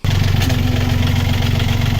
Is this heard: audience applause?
no